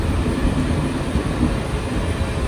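A train at a railway station, a steady broadband rumble of rolling stock and track noise running continuously at close range, with no voices.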